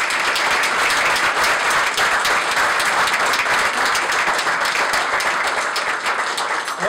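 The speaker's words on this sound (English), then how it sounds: "ask for a round of applause for it" An audience at a poetry award ceremony gives a round of applause, steady, full and continuous clapping from many people throughout with no break.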